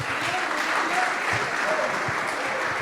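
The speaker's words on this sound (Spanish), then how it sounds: "Si quiere aplaudir, délo con todo el alma, no se preocupe." A church congregation applauds during a sermon, a steady dense wash of clapping filling the room for the whole stretch, with some faint voice underneath.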